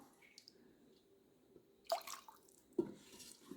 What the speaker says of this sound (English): we're going to scoop out some of this delicious broth